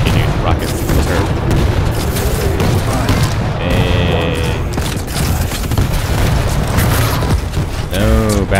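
Rocket blasts in the arena shooter Quake Champions, a dense run of loud, booming explosions and rapid gunfire layered over one another, with brief mechanical whirs and pickup tones cutting through.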